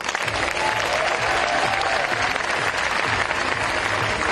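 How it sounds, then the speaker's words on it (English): A conference audience applauds steadily at an event with Melinda Gates, dense continuous clapping filling the room at even loudness throughout. "please give a warm round of applause and welcome to Melinda Gates."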